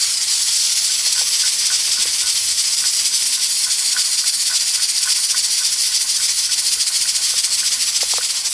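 A pressure cooker of goat curry with Irish potato hisses steam in a steady, loud, unbroken rush close by, with faint clinks underneath.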